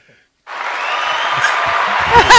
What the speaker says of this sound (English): Too bad we have that cheesy applause button right there.